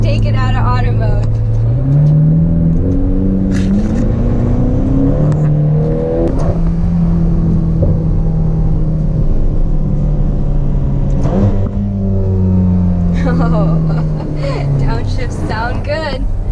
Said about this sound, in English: Downshifts sound good.